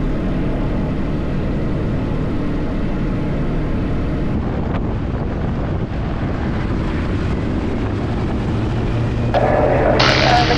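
Douglas Dakota formation rolling for take-off on runway 06 at a D-Day anniversary flyover, a steady broad engine roar with wind buffeting the microphone that builds louder near the end.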